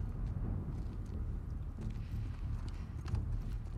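Horse hooves clip-clopping in the video game The Last of Us Part II, a steady dense patter of hoofbeats at moderate level running throughout, with no one speaking.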